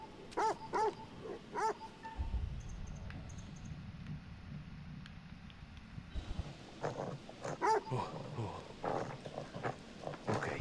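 A dog in The Devil in Me video game whimpers and gives sharp, close barks in short clusters at the start and again near the end, with a rumbling stretch in between.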